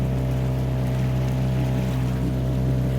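Outboard engine on an inflatable boat at displacement speed while warming up on a Scottish loch, a steady, close, loud low drone with a constant hum and faint water wash.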